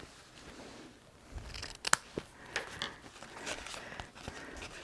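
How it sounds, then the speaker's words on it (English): Scissors trim the paper edge of a sand-and-sea themed pop-up card, giving a few quick crisp snips and rustles close by, sharp and brief against a quiet background. "Trim the edge."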